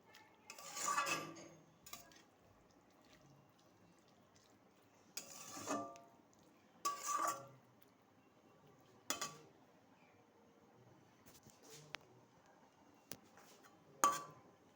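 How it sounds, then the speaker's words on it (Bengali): A spoon clinks and scrapes against a metal pot in a few separate bursts while bottle gourd greens with poppy paste are stirred, then a lid clatters down; quiet between the sounds and no talking. "পোস্ত বাটা দিয়ে একটু নাড়াচাড়া করে আবার ঢেকে দেবো।"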